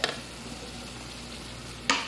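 Onions cooking in a pan on a stove give a quiet, steady sizzle, with a brief clatter at the start and another near the end.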